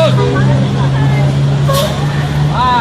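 A luxury ANS intercity bus on the Jakarta to West Sumatra run pulls away with a loud, steady engine hum and a brief burst of air-brake hiss midway, under nearby voices.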